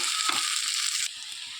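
Rui fish curry masala with potato and eggplant sizzles steadily in a hot pan, close and bright, broken by soft scraping and stirring knocks of a spoon, with no talking.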